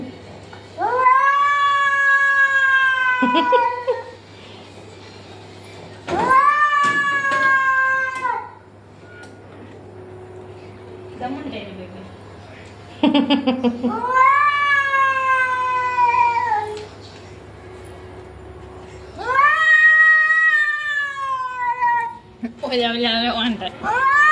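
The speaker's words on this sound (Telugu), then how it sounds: "అది బయట పిల్లి వస్తుంది" A cat outside a door lets out loud, drawn-out meows and wails in repeated bursts with short pauses between, while a person speaks over some of the cries.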